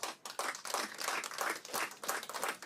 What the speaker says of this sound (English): the CS will ceremonially hand over to the PS as we clap